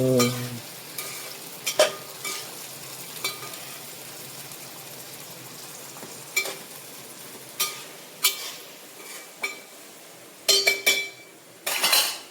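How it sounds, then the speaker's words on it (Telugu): Half a kilo of washed tender cluster beans frying in a pan, a soft steady sizzle broken by repeated sharp clinks and scrapes as a utensil stirs them, close by. "ఇప్పుడైతే గోరు చిక్కుడుగాయలని కడిగినవన్నీ వేసుకోవాలి."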